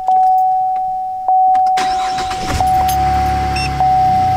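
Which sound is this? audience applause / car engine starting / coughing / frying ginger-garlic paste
car engine starting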